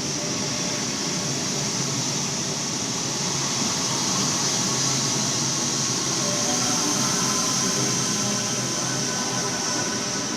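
A Sydney train departs Sydenham station platform 2, its steady broadband rumble and hiss of motors and wheels holding at a constant loud level throughout, with no voices.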